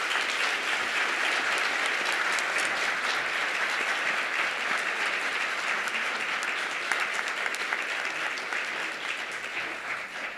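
An audience at the Golden Apple Awards 2018 ceremony applauds for the high school teachers, sustained loud clapping from a large crowd that holds steady for ten seconds and tapers slightly near the end.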